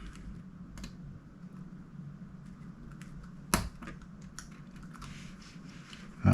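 The keyboard of an IBM ThinkPad 600E laptop is pressed into place, producing scattered plastic clicks and taps, with a couple of sharper snaps standing out against a quiet background.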